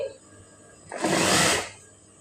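A sewing machine runs a short burst of stitching along the side seam of a blouse, a loud whirring run lasting under a second after a quiet start, then stopping.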